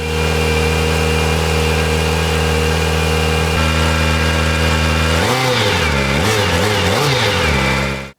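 A Kawasaki ZX-4R inline-four with its stock exhaust idles cold in a steady, loud hum close by, then gets a few quick throttle blips that rise and fall in pitch before cutting off.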